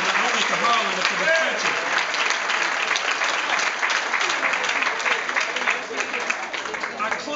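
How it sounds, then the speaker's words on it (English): Dense, sustained applause from a crowd at a Martin Luther King commemorative event, a steady roar of many hands clapping at close range with no breaks. "Give him another round of applause."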